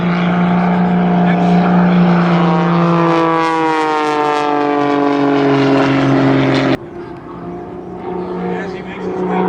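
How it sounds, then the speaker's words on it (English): An aerobatic propeller aircraft at an air show drones loudly and rolls overhead, its engine tone shifting in pitch as it passes, then cutting off abruptly into quieter background noise, with a voice talking over it. "On the way up, he starts to roll the aircraft."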